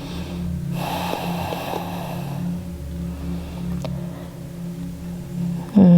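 Slow yoga breath, with a long, audible inhale followed by a softer exhale, close and steady over a faint low background hum, ending in a brief louder sound.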